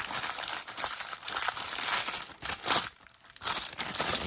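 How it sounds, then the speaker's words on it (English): The paper bag and plastic packaging of a Marvel Legends Future Foundation Stealth Suit Spider-Man action figure are crumpled and crinkled close up, in dense irregular bursts of crackling with brief pauses, with no talking. "Now you guys love hearing crinkling paper and plastic."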